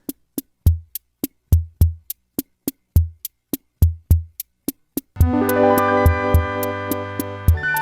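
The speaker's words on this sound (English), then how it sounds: "there's a rhythm section that has its own retro charm to it." Rhythm section of an OM-84 chord machine: a dry, clicky drum-machine pattern of ticks and soft low thumps in steady tempo, then joined by sustained buzzy chord tones and bass for the last few seconds, all close and unaccompanied by talk.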